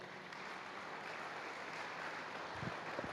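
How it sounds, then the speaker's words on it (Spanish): A church congregation applauding during a Sunday service, a faint steady wash of many hands clapping heard from a distance, with a few louder claps near the end. "Dale un aplauso a Cristo."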